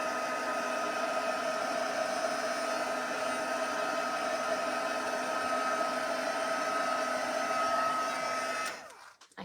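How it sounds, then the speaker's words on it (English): A handheld heat tool blows steadily for about nine seconds, drying watercolor on a heat-embossed image with a close, even whirring hiss and whine, then switches off and winds down to quiet. "I'm drying it just a little bit with my heat tool."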